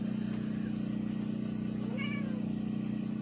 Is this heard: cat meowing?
yes